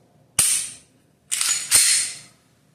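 An aftermarket ADC arm Syndicate trigger on a Glock 19 Gen 5 MOS pistol gives three sharp, close mechanical clicks in quick sequence, one dry-fire break followed by two reset clicks, with quiet gaps between them.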